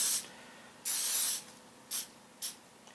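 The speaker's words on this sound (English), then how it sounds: "I'm going to spray this down with ballistol, just a coating to break up anything else that's in there around the frame." Aerosol Ballistol lubricant hisses onto the frame of a Beretta M9 pistol in four short bursts, two longer then two quick, close and crisp with quiet gaps between.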